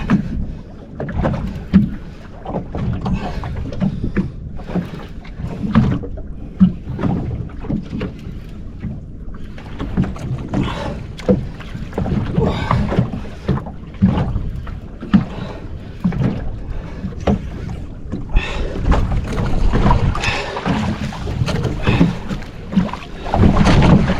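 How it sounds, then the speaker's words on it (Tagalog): Big sea waves slap and splash against a small fishing boat out jigging on open water. The choppy, irregular wash stays loud and close throughout, with gusts of wind buffeting the microphone. "Oh, malaki ng alon."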